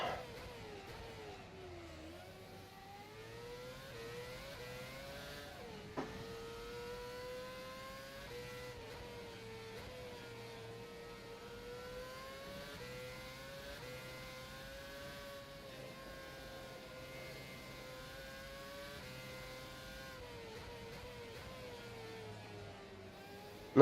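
A Formula FSR open-wheel race car engine in rFactor 2 at Malaysia whines steadily at high revs, rising and falling in pitch through gear changes and corners, sustained and fairly quiet for the whole stretch with no talk.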